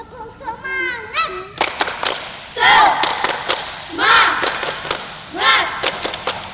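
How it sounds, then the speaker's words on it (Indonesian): Children perform a rhythmic spirit clap at a Sunday school gathering, loud group claps and thumps in short bursts alternating with shouted chanting voices. "Tepuk semangat"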